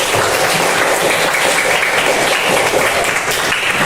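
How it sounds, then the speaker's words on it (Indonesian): Students in a classroom clap steadily for classmates who presented their discussion results, a continuous, even round of applause with no break. "Tepuk tangan dulu untuk yang naik memaparkan hasil diskusinya. Tepuk tangan yang meriah."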